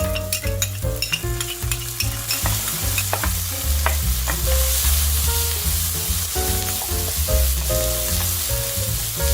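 Garlic, ginger, chilli, black beans and onion stir fried in hot oil, a steady loud sizzle with rhythmic scraping and clanking of a spatula against the wok, close up and without talk.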